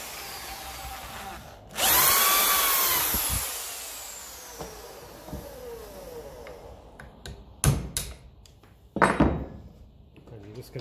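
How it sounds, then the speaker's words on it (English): A loud power drill whirs up and runs steadily for a few seconds boring through metal on a Massey Ferguson 35 tractor, then fades, followed by scattered clunks and metallic knocks. "Should drill out handy with the right drill bit"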